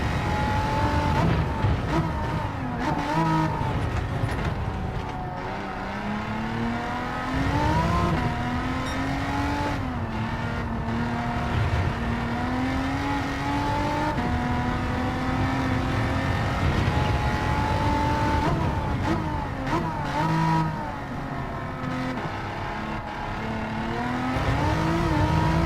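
A car in Gran Turismo 7 is driven hard, its engine revving up and down through the gears as it corners. The whine is loud and constant, with brief lifts off the throttle and no talking.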